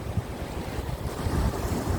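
Rough waves crash over coastal sea rocks at Adeul Rock in Jumunjin, Gangneung, with strong wind roaring across the microphone in a constant loud wash of surf, and no talking.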